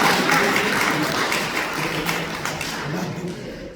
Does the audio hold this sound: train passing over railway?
no